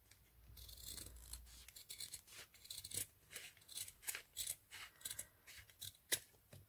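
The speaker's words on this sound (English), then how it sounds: "again, get your scissors." Repeated crisp snips of scissors cutting through 3-inch ribbon, a steady series of sharp slicing strokes close by with short pauses between cuts.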